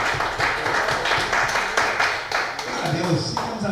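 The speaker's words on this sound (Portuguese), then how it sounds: "dar uma grande salva de palmas para Jesus Cristo" A church congregation at a Pentecostal Assembleia de Deus service claps steadily and rhythmically for Jesus Christ. The applause is dense and continuous, with voices mixed into it.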